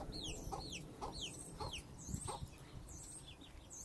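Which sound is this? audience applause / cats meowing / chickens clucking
chickens clucking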